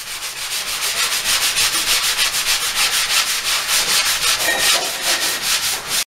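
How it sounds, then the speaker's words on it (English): A power sander works over a patched plaster wall behind a bathroom sink, giving a loud, close, continuous rasping whir with a regular pulsing rhythm from steady back-and-forth passes. "Let the sander do the work for you."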